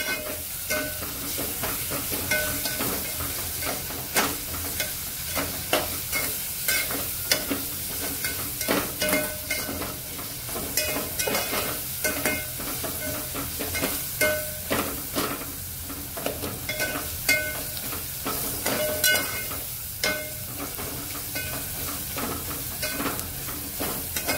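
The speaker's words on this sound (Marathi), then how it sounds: "आलं लसूण पेस्ट पण जाडसरच करून घेतलेले, छान अशी परतून घेऊया तिचा उग्र वास जाईपर्यंत" Coarse ginger garlic paste sautéing in a pan sizzles steadily, broken by the regular scrape and clatter of a spoon stirring it, close and without talk.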